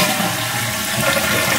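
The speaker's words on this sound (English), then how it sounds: "You can see all the water is going to run out." Water rushes steadily out of a toilet cistern after its flush valve is disconnected, a loud, continuous close-up gushing and draining with no pauses.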